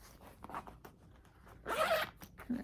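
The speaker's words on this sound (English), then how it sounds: "Unzip that." A zipper is drawn open along the full zip top of a purse in one quick pull, close and fairly loud, with faint handling rustles before it.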